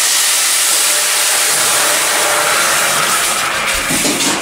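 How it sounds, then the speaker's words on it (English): Loud, steady steam hiss as hot water is poured into a hot electric oven for baking bread, a dense rushing sound that fills the whole clip with no talking. "And now we're gonna put our steaming water in."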